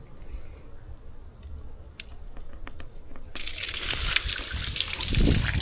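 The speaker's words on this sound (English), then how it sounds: "try and dump the rest of this water out of here so it just pours out" Water dumps out of a pressure washing trailer's tank. A few quiet clicks and handling noises come first, then a sudden, loud, continuous pouring rush takes over partway through and keeps growing to the end.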